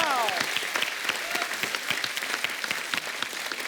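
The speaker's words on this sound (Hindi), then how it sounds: "जोरदार ताली इनके लिए।" A studio audience at a comedy talk show claps loudly and steadily, a thick, continuous wall of applause with a voice briefly audible underneath.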